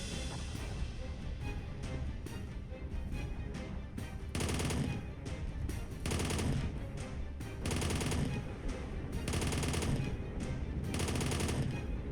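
Machine gun fire in the WW2 Bunker Simulator game: dense, rapid bursts of automatic shots arriving in several loud volleys, separated by brief pauses of quieter battlefield noise.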